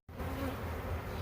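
A honey bee swarm buzzes in a dense, continuous drone, close and steady, with no voices.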